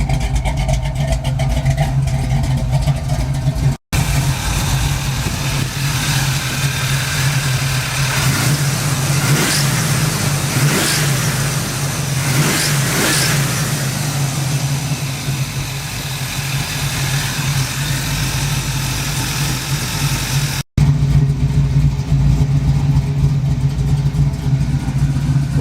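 Pontiac Firebird engine idling with a steady low rumble, then revving in several rises and falls, loud and close with no talk over it.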